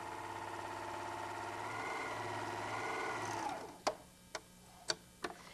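A White Superlock 634D serger runs on sweater knit with a steady, close mechanical whir for several seconds, then stops, followed by a few sharp isolated clicks.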